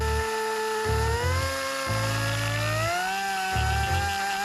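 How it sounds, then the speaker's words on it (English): A whining power drill runs continuously, its pitch shifting as it bites and eases in repeated pushes, close up and alone, boring a hole for wiring. "So we need to remove some webbing and then drill a hole."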